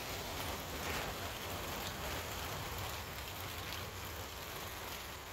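Heavy rain pours down on a Texas afternoon at a Longhorn cattle sale, a dense, even hiss of drops striking surfaces that holds steady throughout with no voices.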